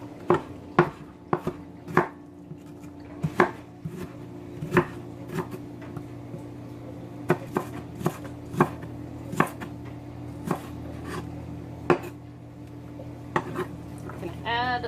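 Knife chopping peppers and onion on a cutting board, a steady series of sharp, close taps with short pauses, over a low background hum.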